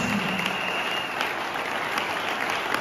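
Congregation applauding together in a church service, a dense steady wash of clapping filling the room throughout.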